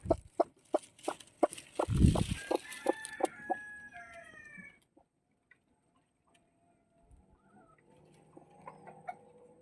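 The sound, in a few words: chickens clucking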